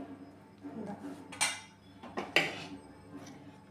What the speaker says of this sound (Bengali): এখন একটু মিক্স করে এটাকে আমরা ঢেকে দেব 10 মিনিটের জন্য।